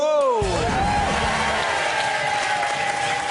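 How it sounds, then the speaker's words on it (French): Studio audience on a French television game show applauding contestant Pascal, a steady dense wash of clapping that swells in after a brief musical jingle and holds loud and even throughout. "applaudissements pour Pascal, mesdames et messieurs"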